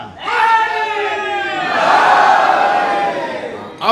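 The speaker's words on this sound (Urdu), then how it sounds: "اب لگا کہ حیدری حال میں نعرہ بلند کیا ہے آپ نے" A majlis audience in Haidery Hall chants religious slogans loudly in unison, a swelling mass of voices rising into a sustained roar around the middle before tapering off.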